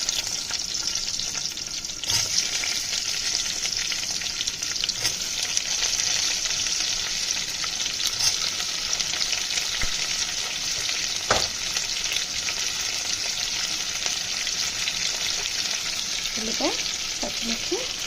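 Onions fry with mutton nalli bones in hot oil for a Sunday curry, giving a continuous loud sizzle with a few sharp stirring knocks.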